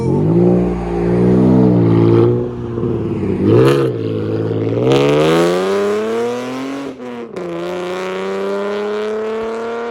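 A 2014 Chevy Camaro V6 with a manual gearbox and straight-piped true dual exhaust revs loudly up close, its raspy engine note climbing, dipping and climbing again in repeated throttle blips.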